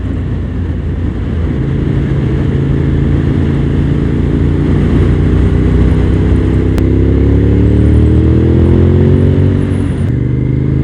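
Suzuki TL1000R V-twin sports motorcycle at speed, a loud, close engine drone under rushing wind that climbs steadily in pitch as it accelerates, with brief gear-change dips.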